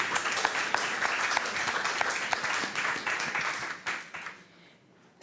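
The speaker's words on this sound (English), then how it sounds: "I think we give a final round of applause for that excellent session." Audience applause closing a panel session at a conference on synodal mission, dense steady clapping for about four seconds that thins into scattered claps and fades to near silence before a last burst at the end.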